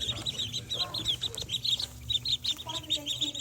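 Young ducklings peep in a rapid, uneven stream of high chirps, close by, with faint background noise under the calls.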